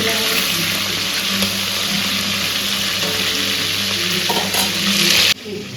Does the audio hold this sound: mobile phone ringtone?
no